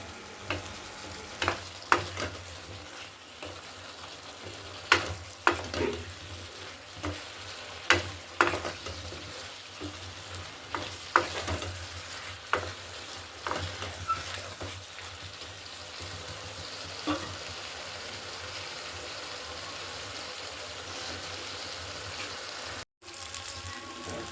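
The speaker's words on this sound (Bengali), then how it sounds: "এবারে ছ পিস মতন কাঁচা লঙ্কাটাকে চিড়ে মশলার সাথে ভালো করে কষে নিতে হবে" About six slit green chillies fry with spices in a pan for a thin Bengali fish curry, making a quiet steady sizzle punctuated by repeated scraping stirs of a spatula at irregular intervals.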